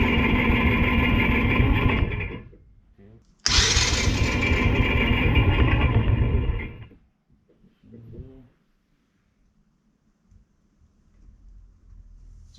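A Tao Tao 110cc ATV quad engine, freshly fitted with a cheap replacement carburetor and intake, runs loud and rough in two bursts separated by a brief cutout, then dies away to near silence.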